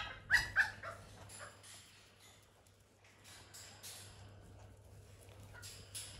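Dogs yip and bark a few times close by in a backyard garden at the start, then the clip fades to quiet outdoor ambience with faint rustling and no talk.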